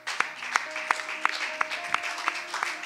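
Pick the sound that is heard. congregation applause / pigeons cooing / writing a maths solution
congregation applause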